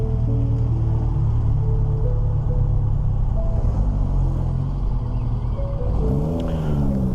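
A rally-prepared sports car with roll cage and bucket seats rumbles steadily at close range, its deep engine note holding low and even, then rising briefly near the end.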